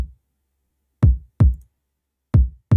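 Kick drum sample processed with the Fresh Air plugin for added high-end sheen: a series of five deep, punchy thumps with a slightly brighter attack, spaced irregularly and heard in isolation.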